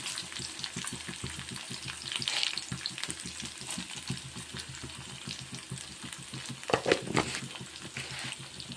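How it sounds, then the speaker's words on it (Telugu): Tempering spices sizzle and crackle in hot oil in a pan with okra and shrimp fry, a steady close frying hiss with a few sharper pops and stirring sounds, no talking. "ఇప్పుడు పోపు దినుసులు యాడ్ చేస్తున్నానండి."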